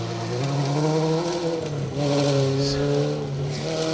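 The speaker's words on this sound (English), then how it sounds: "very noisy sounding Peugeot 205" A Peugeot 205 rally car's engine drones loudly and steadily close by at the Woodpecker Stages Rally, its pitch holding and then rising again as it revs.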